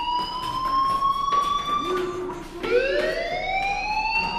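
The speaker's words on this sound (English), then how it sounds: "Hey, do you hear that fire alarm? That means you should be outside." A fire alarm rings in the Life is Strange video game, a loud electronic siren-like tone that holds steady, dips, then rises and sweeps upward again, sounding alone without talk.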